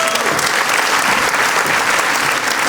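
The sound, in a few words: audience applauding Natali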